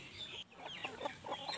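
Free-range village chickens cluck repeatedly on a farm in a steady, busy run of short calls that sit close and moderately loud, with no talking over them.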